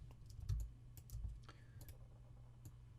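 Keys on a computer keyboard are pressed in a few quiet, separate taps and clicks, heard close and alone against a low, faint background hum.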